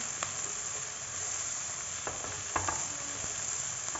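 Onion cooking in a pan for kachori filling gives a steady soft sizzle with a few light stirring scrapes near the end, fairly quiet and without talk.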